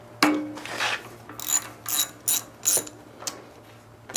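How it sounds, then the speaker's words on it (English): A hand wrench ratchets in short, separate strokes while loosening a plug on an old, never-run engine, clicking close and moderately loud with small gaps between pulls. "I just got Mike a wrench to take the plug off"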